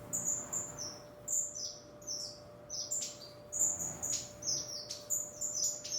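Many small aviary birds chirp and tweet in rapid, overlapping bursts, fairly near, with a steady faint hum underneath.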